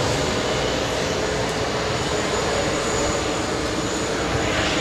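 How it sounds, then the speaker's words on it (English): A Dassault Falcon jet climbing out after takeoff from JFK Airport roars as a loud, steady, broadband engine rumble that stays constant throughout, with no talking. "There goes the Dassault Falcon."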